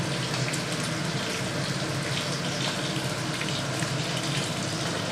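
Water poured into a ground spice mixture for a Bengali koi fish curry, a steady, continuous splashing trickle that stays even and close throughout.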